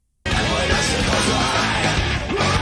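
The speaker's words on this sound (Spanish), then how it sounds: "Estos gritos, a ver." Harsh screamed vocals from a live concert performance burst in suddenly and hold loud and raw over dense band music for a couple of seconds.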